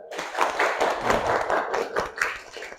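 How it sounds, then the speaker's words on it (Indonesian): Students in a classroom clap for a classmate, a short, uneven round of applause with distinct hand claps building and fading over about three seconds. "Beri aplaus untuk Cici Sahira"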